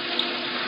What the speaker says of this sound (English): I turned on the faucet in the sink.